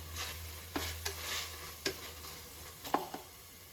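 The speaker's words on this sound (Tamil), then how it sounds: "இதை நல்லா கலந்து விட்டுக்கலாம்." Yogurt being stirred into mutton biryani masala in a pressure cooker, giving a few soft scraping strokes over a faint, steady sizzle.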